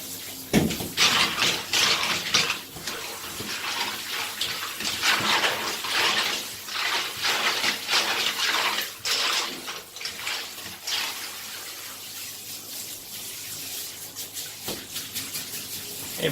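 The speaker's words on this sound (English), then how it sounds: "now all we do, rinse them off." Atari 800 computer parts rinsed under a running tap, a steady rushing splash of water for most of the stretch that fades into lighter trickling toward the end.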